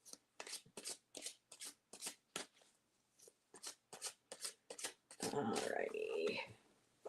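Playing cards shuffled during a tarot-style card pull, a steady burst of riffling near the end following a stretch of short handling taps and rustles, close and fairly loud with no talking over it.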